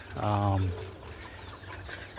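Roller pigeons in a loft give a short, close cooing call near the start, followed by faint soft fluttering and shuffling in a quiet coop.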